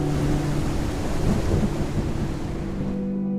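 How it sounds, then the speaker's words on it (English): A wild thunderstorm with rain in the Outbreak Island video game, a steady loud roar of rain with low rumbling, heard alone. "It can go from a calm, clear day to a wild storm."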